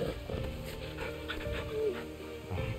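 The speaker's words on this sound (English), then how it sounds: "We can pet the dog at any point." A dog in the video game Final Fantasy XVI, panting steadily with a soft whimpery whine, close and continuous, with a low murmur of voice underneath.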